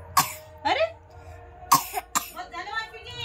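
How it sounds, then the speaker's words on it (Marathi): A small child coughs in several harsh bursts, close by, separated by short pauses, with some throat clearing and faint background voices between the coughs. "जास्त खोकलत आहे"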